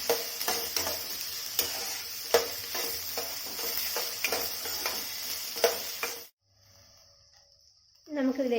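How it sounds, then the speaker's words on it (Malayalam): Onions being sautéed in a pan for taro root curry: a steady sizzle broken by rhythmic clinks and scrapes of a stirring spoon. The cooking sound drops to near silence, then a voice speaks at the end. "ഇനി നമുക്ക് ഈ സവാള നല്ലതുപോലെ ഒന്ന് വഴക്കിയെടുക്കാം"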